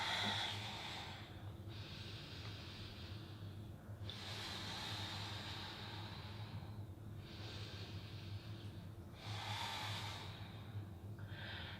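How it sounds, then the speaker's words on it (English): Slow, deep breathing during a yoga stretch for the calves, ankles and feet, long airy inhales and exhales in an even rhythm of about three breaths, close and soft with no talking. "Breathing here, a few more breaths."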